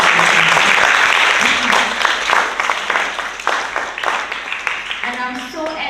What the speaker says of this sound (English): So give yourself a hearty round of applause and join me.